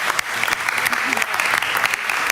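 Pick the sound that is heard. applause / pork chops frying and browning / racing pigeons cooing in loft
applause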